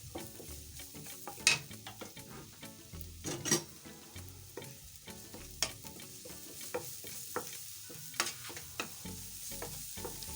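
Garlic stirred into a simmering beef stew in a pot, soft bubbling and sizzle with repeated scraping strokes of a spoon and occasional knocks against the pot, fairly quiet and close.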